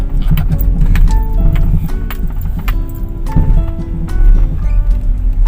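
Repeated knocking and clunking from a Mitsubishi Space Wagon's worn front suspension, both sides, over a loud road rumble, irregular thumps as it drives on rough concrete pavement.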